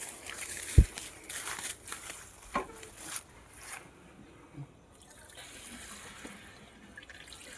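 Dissolved pesticide liquid is poured into a sprayer tank on a farm, giving gurgling, splashing pours and drips in uneven bursts that fade toward the end.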